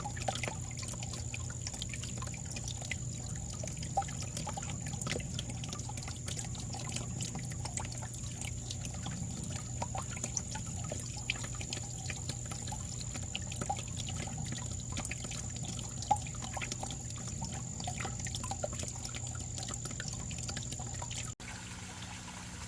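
Steady running, trickling water from a garden fountain flows continuously at a moderate level, with a faint constant hum in the background.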